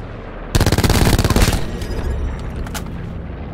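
Rapid automatic gunfire from the battle royale video game Call of Duty Blackout on PC, a loud burst of about a second of closely spaced shots, then fading echoes and small clicks.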